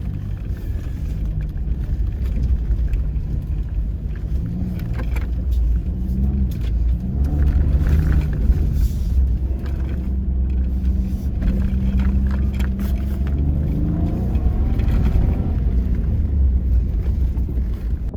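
Truck driving over a rough ATV track on a cold day, its engine a steady low rumble with bumps and jostling throughout, fairly loud and close, with no talking.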